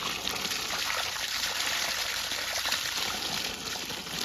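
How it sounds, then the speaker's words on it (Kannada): Water flowing from a borewell pump on a coconut farm, a soft continuous rushing stream, steady and fairly quiet, with no talking. "ಬೋರಿದು ನೀರು ಆನ್ ಮಾಡ್ತೀನಿ."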